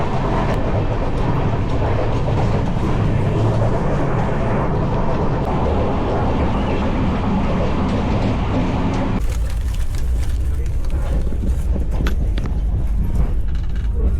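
A passenger train runs along the rails on a journey, a steady loud rumble and rattle of wheels and carriage throughout, shifting abruptly to a deeper, boomier interior rumble partway.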